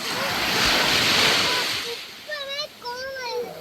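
Ocean surf washes onto a beach in a steady, loud rush for about two seconds, then eases off as a voice and other talk take over with the waves still audible underneath.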